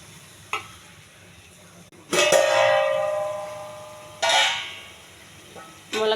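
Water poured into a pan of drumstick curry with garam masala sets off sharp hissing bursts, three loud surges of sizzle that swell and then fade between quieter stretches.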